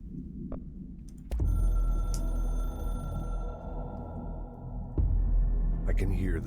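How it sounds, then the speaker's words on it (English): The hotline telephone in the video game Control rings in a steady, sustained tone over a low rumble of game sound, which drops off partway through. "I can hear the hotline ringing in my dreams, constantly ringing."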